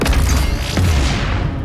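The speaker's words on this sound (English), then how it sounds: "Explosions." Loud, rumbling explosions in the video game Doom Eternal, with booming low end and crackling debris, several blasts overlapping in quick succession.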